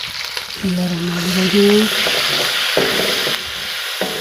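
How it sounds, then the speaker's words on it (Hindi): Meat for aloo gosht frying in a pot over high heat, a steady loud sizzle throughout with brief stirring scrapes, while someone speaks briefly. "और इनको मैं अच्छी तरह से फ्राई कर लूँगी 3-4 मिनट तक।"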